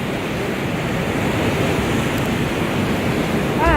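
Steady broadband roar of sea surf mixed with wind in Cuba, continuous and fairly loud, with no voices.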